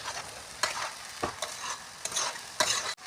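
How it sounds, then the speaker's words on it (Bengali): Mixed vegetables are stirred in a frying pan, giving soft sizzling under several distinct scraping strokes spaced about half a second apart, close and fairly quiet. "তো এভাবে আপনারা নেড়ে চেড়ে ভালো করে দিবেন"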